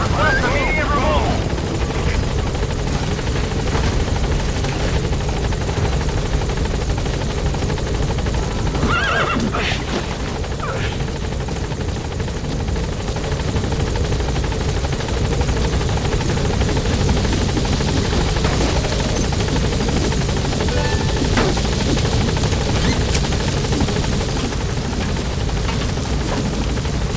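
Pequod, the helicopter from Metal Gear Solid V: The Phantom Pain, drones steadily with a loud, continuous rotor roar that fills the whole stretch, with a few brief higher cries rising above it.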